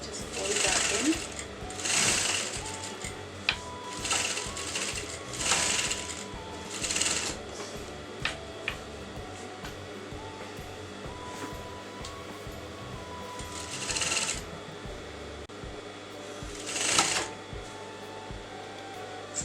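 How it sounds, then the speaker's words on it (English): A sewing machine stitching a folded kurta neckline runs in steady, close mechanical bursts with brief stops and restarts, with someone talking over it. "just fold it in and you're going to sew that on top"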